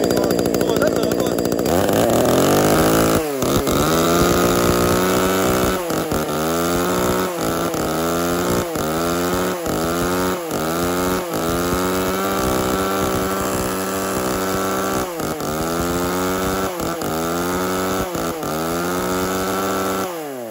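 A used Japanese chainsaw engine runs loud and close, revving up and dropping back in a repeated rhythmic cycle over a steady idle.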